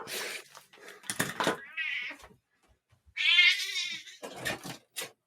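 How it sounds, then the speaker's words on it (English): Domestic cat meowing indoors, several drawn-out, wavering cries in a row with short pauses between them, close and fairly loud with no talking over them. "Do I hear a cat?"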